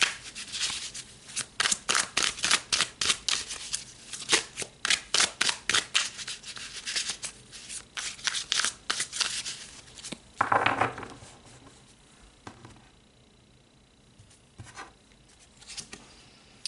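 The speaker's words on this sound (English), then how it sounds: "let's pull some more cards" A deck of tarot cards shuffled in quick, rhythmic riffling bursts, close and crisp, followed by softer sliding and rustling as cards are drawn and laid down, with no talk.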